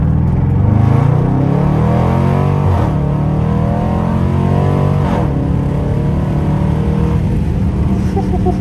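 A 2021 Dodge Durango R/T launches from a brake-held start and accelerates hard to 60 mph using paddle shifts, its engine roaring loud inside the cabin with rising revs broken by two quick upshifts.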